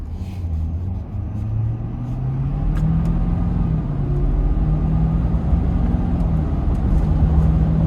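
A 2026 Ford F-250 King Ranch pickup accelerating up an interstate on-ramp under moderate throttle, a steady loud engine drone rising in pitch over road rumble, heard from inside the cab with no talking.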